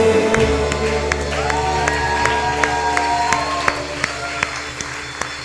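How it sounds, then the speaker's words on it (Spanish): Church congregation at a Pentecost service applauding amid music, a crowd clapping and cheering over sustained tones, with sharp periodic beats running throughout. "Señor, estos aplausos son para ti"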